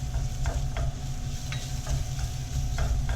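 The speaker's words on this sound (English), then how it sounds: "We're going to add the garlic and the ginger and stir it for about 30 seconds." Garlic and ginger stirred into a pan of softened mirepoix for a Thai-style pork and beans dish, sizzling steadily while a utensil scrapes and taps the pan every half second or so, close and clear.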